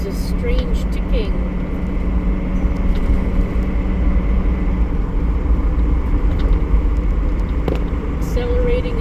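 A Ford car runs with a loud, constant engine rumble heard from inside the cabin, droning evenly throughout with scattered faint clicks and a brief chime.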